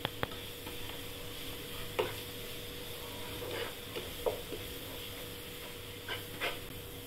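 Ground cumin, coriander and fennel sautéing in a pan for Shegaon kachori filling, a soft low sizzle broken by occasional spoon taps and scrapes against the pan.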